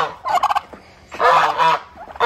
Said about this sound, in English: A mature turkey, male turkey, is called a Tom.